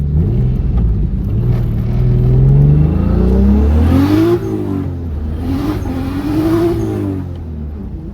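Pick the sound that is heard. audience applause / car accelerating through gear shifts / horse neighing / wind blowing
car accelerating through gear shifts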